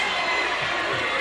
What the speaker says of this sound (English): the crowd bursting into a unified chant against